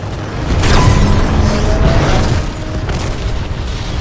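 A Titan is destroyed in the video game Titanfall 2, a loud, sustained booming explosion with a heavy rumbling roar that swells and holds for several seconds amid game noise.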